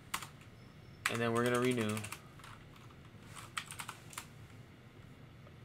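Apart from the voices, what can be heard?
hitting arrow keys on a computer keyboard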